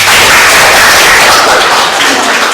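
A classroom of students applauds, with loud, dense clapping that forms a continuous roar of many hands close by.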